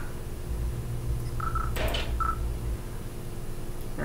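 Telephone dialing tones from The X-Files Game video game, a few short beeps in quick succession over a steady low background hum.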